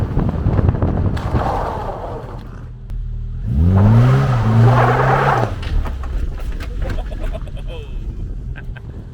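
Classic Mini Cooper engine revving up in a short rising and falling burst, close and loud, set within steady road and cabin noise.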